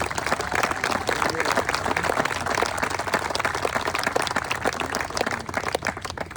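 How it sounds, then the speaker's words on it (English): A crowd applauds the team at the opening day of a restored golf course, a dense and continuous clapping that stays steady and fairly loud throughout with scattered individual claps. "please join me in a huge round of applause for the entire team"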